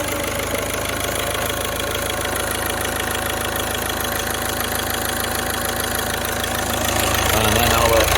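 A VW 1.6 TDI diesel engine with a no-boost fault runs at a steady, close, clattering idle that swells slightly toward the end.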